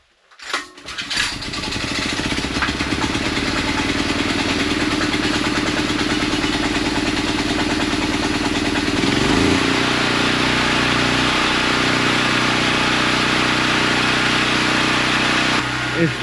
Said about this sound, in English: it's time to start the generator